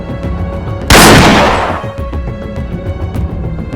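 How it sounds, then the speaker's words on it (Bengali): A single loud gunshot effect from an animated army cartoon, a sharp blast followed by a decaying noisy tail, heard over a light background score with no speech. "ও শিট, গুলি তো মিস হয়ে গেল, কিন্তু ফজি তুই আমার থেকে বাঁচতে পারবি না।"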